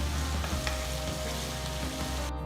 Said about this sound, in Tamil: பொடுசா நறுக்கின ஒரு பெரிய வெங்காயம் சேர்த்து நல்ல பொன்னிறமாக வர வரைக்கும் வதக்குங்க